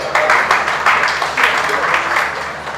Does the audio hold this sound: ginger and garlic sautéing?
no